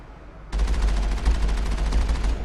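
Loud rapid gunfire in the Mass Effect video game, aimed at a sniper: a dense, continuous automatic burst lasting about two seconds, breaking in sharply over a quiet background with no speech.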